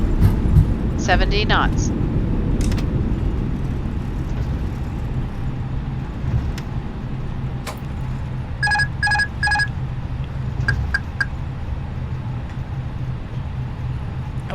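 A32NX airliner in Microsoft Flight Simulator rolls out after landing under reverse thrust, a steady loud engine roar throughout, with a few short cockpit chimes and a voice calling out over it.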